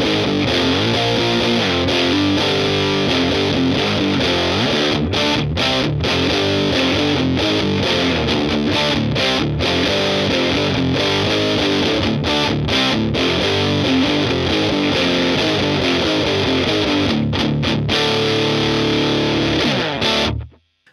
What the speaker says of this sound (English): we're going to engage the boost side of the circuit